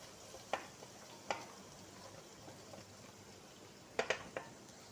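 Onion pieces, two medium onions, frying slowly in fat for chicken do pyaza, with a soft continuous sizzle broken by a few sharp stirring scrapes near the start and a cluster of them near the end.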